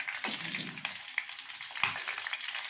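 Green chilies sizzle in hot oil for a Telugu methi tomato curry, a steady crackling fry with a few sharper pops and stirring bursts, close and alone with no talk.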